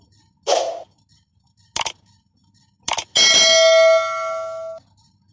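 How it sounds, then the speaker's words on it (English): A notification bell sound effect plays in a sewing tutorial on drafting a ladies' notched-collar jacket: three short, bright dings spaced about a second apart, then a louder chime that rings on for over a second before fading. "And remember to turn the notification bell on."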